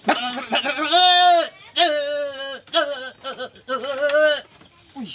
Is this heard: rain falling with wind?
no